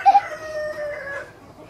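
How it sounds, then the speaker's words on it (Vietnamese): A chicken in a wide, loosely fenced rural garden gives a short crow-like call followed by a brief cluck, close and clear against a quiet background. "Vườn rộng rào thưa khó đuổi gà ấy."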